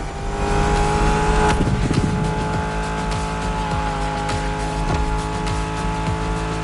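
A Mustang Shelby GT500 drives past close and loud, its engine droning steadily with a brief tire squeal and a surge near the start, then holding a continuous roar.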